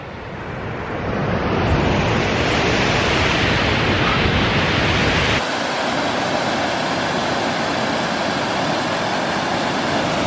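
Waterfall roaring close by, a loud, dense, unbroken rush of falling water that holds steady throughout with no talk.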